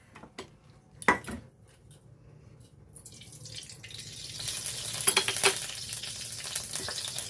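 Whole garam masala frying in hot mustard oil in a kadai for a meat curry, a utensil clatter near the start and then a loud sizzle that builds and holds to the end.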